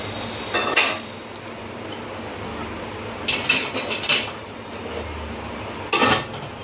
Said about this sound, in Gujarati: આપણે બીજી ડીશ પણ મૂકી દઈશું.